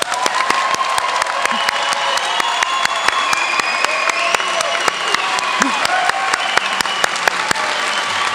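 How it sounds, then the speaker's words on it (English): An audience at a 2013 nursing pinning ceremony at RVCC claps steadily, a dense wash of applause filling the hall from start to finish with faint voices underneath. "Please join us in a round of applause."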